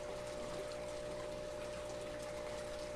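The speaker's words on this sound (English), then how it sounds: "I'll go ahead and just get some of that water in there." Water gushes steadily into a 150-gallon freshwater aquarium, a continuous close, moderately soft pouring wash with a faint pump-like hum underneath and no pauses.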